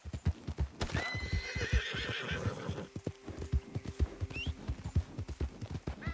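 A horse whinnies loudly in the video game Red Dead Redemption 2 while hooves clip-clop in a steady, close rhythm, then keep trotting after the neigh fades.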